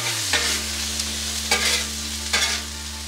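Onions caramelizing on a Blackstone griddle give a loud, continuous sizzle, joined by a low steady hum and three spaced scraping strokes of a spatula across the flat top.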